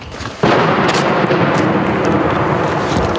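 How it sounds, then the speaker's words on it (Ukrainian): Deep booming blast rolls out suddenly and keeps rumbling loudly, Russian shell explosions mixed with outgoing Ukrainian artillery fire near Klishchiivka, Ukraine, with no talking. "Вибухи російських снарядів повсякчас перемішуються із виходами наших гармат"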